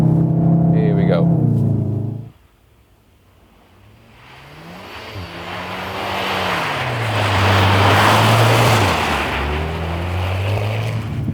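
A Volkswagen Golf R 7.5 drifting on ice, its engine climbing and falling in pitch as the throttle opens, with broad hissing tire and road noise swelling underneath; a voice speaks briefly before the car takes over.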